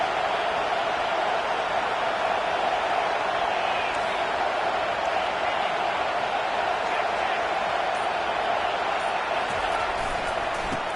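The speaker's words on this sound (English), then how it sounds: "The roar of the crowd trying to fuel this defense to keep them pinned in their own end" A stadium crowd at a Utah vs USC college football game roars steadily and loudly, a continuous wash of cheering and noise filling the whole stretch without letup, with a broadcast commentator's voice faintly mixed under it.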